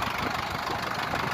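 A diesel tractor ploughing a field in a Gujarat village runs with a steady, dense, rough engine drone and a knocking texture, loud and close with no breaks.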